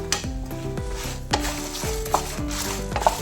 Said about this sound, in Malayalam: എണ്ണ ചേർത്ത് വറുത്തെടുത്താൽ കറിക്ക് നല്ല ടേസ്റ്റാണ്. സ്പൂൺ ഫ്രഷ് കുരുമുളക് ചേർത്തിട്ട് വറുത്തെടുക്കാം.